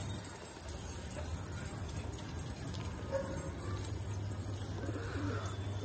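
Pigeons at a loft give low, soft coos that repeat now and then under a steady outdoor hiss, with faint rattling and ticking noises around them.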